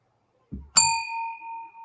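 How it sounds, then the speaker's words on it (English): A small bell is struck once after a soft thump, giving a bright metallic ding that rings on with a clear sustained tone and slowly fades. "I got a bigger bell than you."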